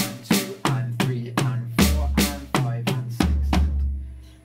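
Drum fill played on a kit, about ten tom and drum hits at a slow, even tempo with deep resonant low end, loud and close with no talking.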